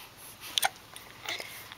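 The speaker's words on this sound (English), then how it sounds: "She has hiccups really bad," A baby hiccups in a quiet room, two faint, soft hiccups spaced apart, with a short breathy catch around them.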